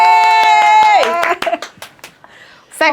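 Audience clapping for a guest on a talk show, a brief burst of applause and cheering following a loud, sustained shout, with talk underneath.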